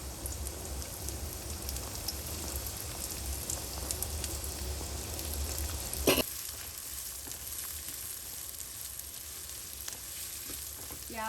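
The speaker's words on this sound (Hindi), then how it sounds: "प्याज को जी हम हल्का सा सोते करते हैं, इसको हमने फुल फ्राई नहीं करना" Onions sauté in leftover chicken oil in a pan, giving a steady, fine sizzle that crackles throughout, with one sharp clink midway and no talking.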